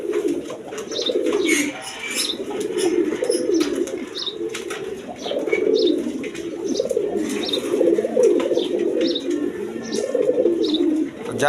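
A pair of young racing pigeons coo continuously at close range, a low rolling burble with scattered chirps and faint flutters, no talking over it.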